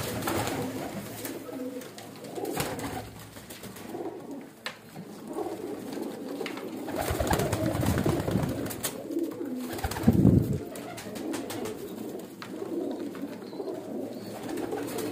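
Breeder pigeons in a loft coo in soft, throaty, repeated calls, close by and moderately loud, with a fuller burst of cooing midway and a quiet background otherwise.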